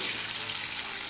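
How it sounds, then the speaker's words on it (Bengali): Mango peel sizzling steadily as it fries in hot oil, a dense, even hiss that runs unbroken and fairly close throughout, with no voices. "এখানে ছালটা ভেজে রাখছি, সকালবেলা রান্না করবো।"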